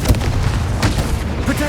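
Confringo blasting spell going off in Hogwarts Legacy, a short burst of booming blasts and pops amid busy spell-combat noise, with two sharper hits standing out.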